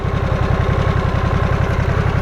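A Harley-Davidson Nightster with its 975 Revolution Max engine idles close by, a loud, steady low throb with an even, rapid pulsing rhythm throughout.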